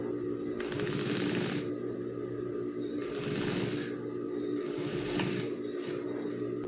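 A sewing machine stitches a school backpack over foam padding, running in four bursts of fast rhythmic whirring and clatter with short pauses between them, close and steady over a constant background hum.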